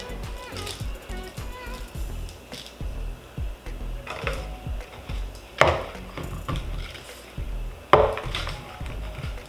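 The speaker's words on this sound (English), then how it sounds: "knock the majority of the soil off here" Soil being knocked off the roots of a root-rotted houseplant, a series of light woody taps and thumps with two sharper knocks, under a person talking.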